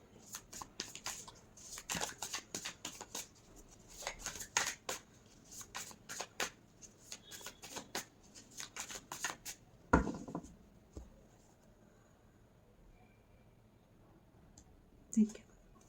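A tarot card deck is shuffled in repeated quick riffling bursts with soft slaps and flutters, then a sharper knock and a few light taps as the shuffling stops, with quiet speech now and then.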